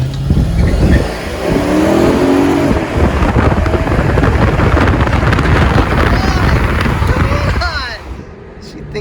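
A Mercedes-Benz R230 SL500 accelerates hard in an impromptu street race, its engine roaring loud and close with wind rush over the microphone, tapering off near the end, while someone talks over it.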